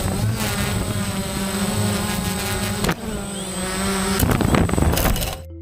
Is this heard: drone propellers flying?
yes